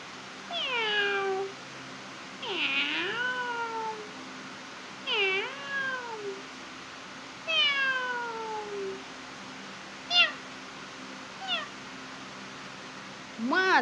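A cat meows repeatedly indoors at home, a series of clear, drawn-out calls spaced a second or two apart, some rising and falling, with a few shorter chirps toward the end and soft room hum beneath.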